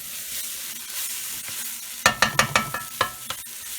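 Kashmiri red chili powder being stirred into masala in a pan, a steady sizzle followed by a rapid run of sharp spoon scrapes and taps on the pan, no talking.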